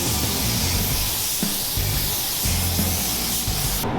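Black paint sprays from a spray gun onto Jeep louvers over white epoxy primer in a loud, close, continuous hiss, steady throughout with faint low rumble beneath and no talking.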